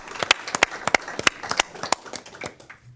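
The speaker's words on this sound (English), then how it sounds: "I think we could clap for this too" An audience at a Cincinnati Metro board of trustees committee meeting claps for the finance team, a small group producing close, sparse, uneven hand claps that thin out after a few seconds.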